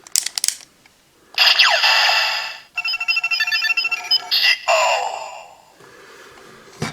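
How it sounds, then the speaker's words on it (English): Kamen Rider Geo Ride Watch toy powering on with bright electronic chimes, warbling synth tones and a short jingle, loud and close, with a few clicks around it. "So, we'll first activate the Geo Ride Watch."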